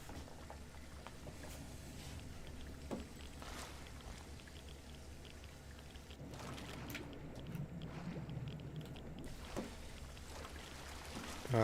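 A character wades into water in Fallout 3, with soft splashing and sloshing over a constant low game ambience, fairly quiet and steady.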